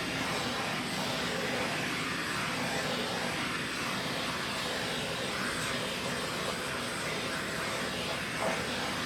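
A hair dryer blows a steady, loud airy whoosh over wet acrylic pour paint, running continuously without a break.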